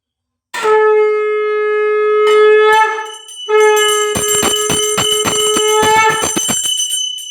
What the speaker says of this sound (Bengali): বাবু ঘন্টাটা বাজাচ্ছিল